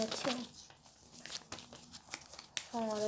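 Paper is folded and crumpled while making a paper bomb or stress ball, with soft scattered crinkles and rustles close by and brief voices at the start and end.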